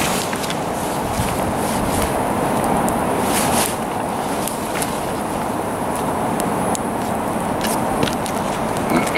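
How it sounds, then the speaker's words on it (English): Strong, steady wind blowing hard outdoors around a small one-match campfire set near a driveway, making a dense continuous roar with faint crackles. "look at that wind go."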